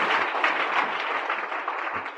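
A church congregation clapping their hands in praise, a steady wash of many overlapping claps at moderate volume, continuous and without talk.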